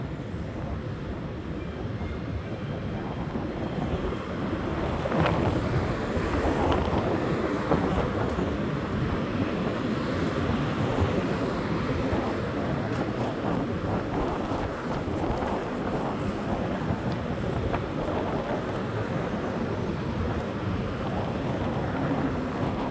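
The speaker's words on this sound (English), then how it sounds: "at the moment, the wind is pretty bad" Strong wind blusters on the Blackpool seafront along South Walk, a loud, continuous broadband roar buffeting the microphone, with a slight swell midway and no clear speech.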